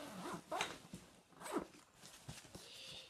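A zipper on a heavy Harry Potter backpack is pulled open in several short, scratchy strokes, close and fairly quiet, with soft rustling between pulls.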